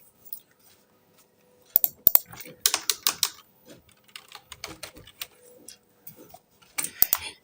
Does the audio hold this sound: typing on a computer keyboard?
yes